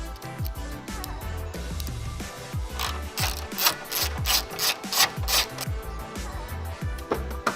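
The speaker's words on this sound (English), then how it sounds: "you're going to need a 8mm socket to take this panel off" An 8mm socket ratchet works loose the panel bolts on a McLaren 570S, giving quick clicking and rasping turns that grow louder in uneven bursts toward the middle.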